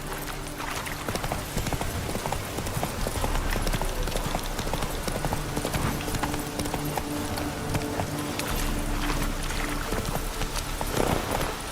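Roach, Geralt's horse in The Witcher 3, gallops at a steady pace, with a continuous rhythmic clip-clop of hooves over a dense bed of game ambience and music.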